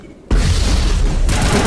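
A grenade explodes in a video game with one sudden, loud, close boom that erupts from quiet and rolls on as a broad roaring blast for over a second.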